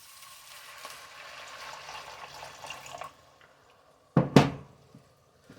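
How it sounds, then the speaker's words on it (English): Hot pan with browned onion bits deglazed with hot water for potato soup, a low hissing sizzle that fades, then a short sharp splash and burst of sizzling, heard without talk. "Let's deglaze that."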